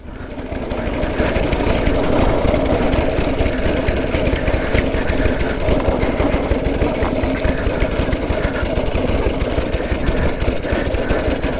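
A 109-year-old TT racing motorcycle's engine runs close up, a loud, fast, even stream of mechanical beats and chattering clatter that holds steady after a brief swell at the start.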